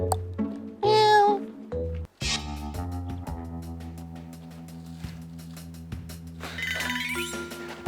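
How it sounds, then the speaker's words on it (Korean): A cat meows clearly near the start, a short rising call standing out before a steady tonal melody like a ringtone or music box continues through the rest. "어, 고양이다."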